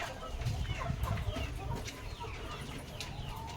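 Chickens on a Filipino breeding farm cluck in a steady, overlapping chorus, with several birds calling at once and low rustling and scratching beneath them, fairly close and continuous.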